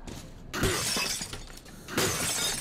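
Glass shatters loudly in Metro 2033 Redux, one crash followed by a tinkling spray of shards, then a second breaking burst near the end.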